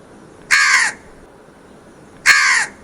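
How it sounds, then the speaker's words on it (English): A crow gives two loud, harsh caws, clearly spaced about two seconds apart, against a quiet background. "It's a crow."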